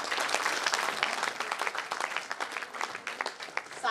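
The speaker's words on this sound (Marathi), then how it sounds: "प्रथम सगळेजण आपण टाळ्या वाजवून," An audience at a literary award ceremony bursts into dense, sustained applause, many hands clapping together steadily before tapering slightly toward the end.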